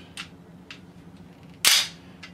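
A Classic Army Scarab airsoft rifle's locked-back charging handle releases with one sharp metallic snap, preceded by a few faint clicks and followed by another light click, close and clear with no talking.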